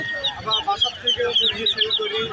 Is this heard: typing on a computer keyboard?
no